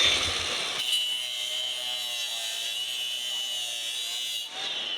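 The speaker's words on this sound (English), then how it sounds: "Grind on that file just like that. Grinds on just about anything." A Bad Dog Tools grinder wheel grinding on a metal file at the SEMA show, a steady high whine of abrasive contact lasting several seconds, close and alone.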